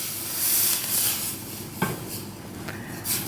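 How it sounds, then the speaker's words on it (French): A roux with white wine and soup broth is stirred in a pan in a restaurant kitchen, giving soft, faint scraping and swishing with a single sharper utensil clink partway through. "il faut bien touiller pour qu'il y ait de grumeaux"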